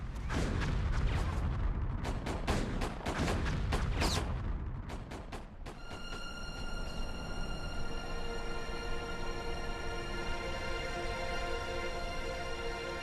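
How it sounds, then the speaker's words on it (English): Heavy German artillery bombardment of British lines at dawn in March 1918, a dense barrage of booming shell blasts for about six seconds, then a rumbling war backdrop under a sustained musical drone. "The Germans hit the British with 1 million shells in just 5 hours."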